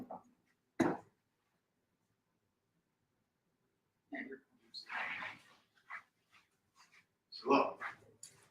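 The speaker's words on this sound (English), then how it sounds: "I gotta get this dog." A dog gives a short bark, then after a pause whimpers and yips in several uneven bursts, mixed with someone talking close by.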